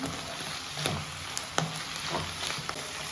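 Mushrooms and herbs stirred together in a hot pan, sizzling steadily with a few sharp scraping clicks of the spoon against the pan, close and alone.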